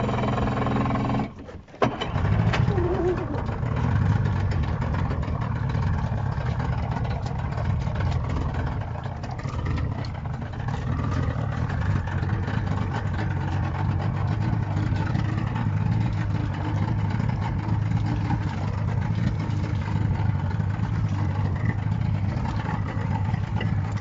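A boat's outboard motor starts with a brief sputter, then settles into a steady, close idle that runs on evenly with a low throbbing hum.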